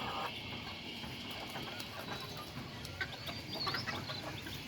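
Fayoumi hens and a rooster on a rooftop, giving soft scattered clucks and brief calls over a steady background hiss, fairly faint and without talk.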